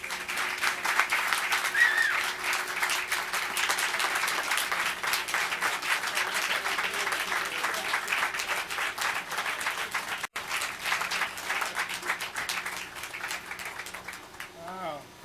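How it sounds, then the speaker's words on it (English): An audience gives a warm round of applause for a reverend being introduced at a gathering, dense sustained clapping at strong level that eases off slightly toward the end. "Will you help me give a round warm of applause to my friend, Reverend Jeffrey Haynes."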